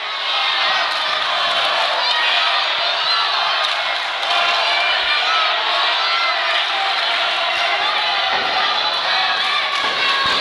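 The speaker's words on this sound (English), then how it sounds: "listen to this crowd." Wrestling crowd at a PPW Excalibur title match roars and cheers without letup, with whoops and shouts rising out of a loud, continuous wall of noise and occasional thuds beneath.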